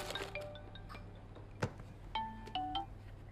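A phone rings in a home while a family gets ready to head out, with a few short, bright tonal bursts in the second half over quiet room background.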